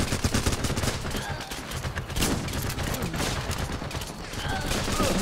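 Dense gunfire in the game Running With Rifles, shotgun blasts among it, thumps and crackles continuously through an urban firefight, loud and overlapping.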